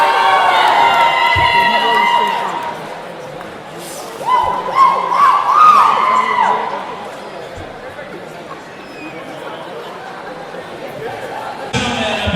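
A crowd at a 2019 boxing event cheers for Peggy Whitmore, loud shouts and whoops at first, then a second swell before settling into lower murmuring with a few thuds.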